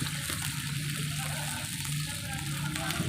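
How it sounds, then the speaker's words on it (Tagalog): Water is poured into a cooking pot holding alugbati, a steady, close rushing and splashing that continues evenly throughout. "Ayan, lagyan natin ng tubig para palambutin pa natin yung mga idol."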